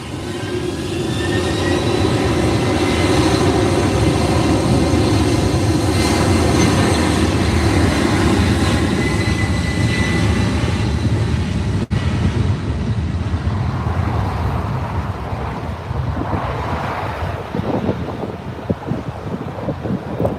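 A wide-body airliner at LAX departing for Las Vegas: a heavy, continuous engine rumble with whining tones, strong through the first twelve seconds and then thinning into a gustier, wind-buffeted roar as it recedes.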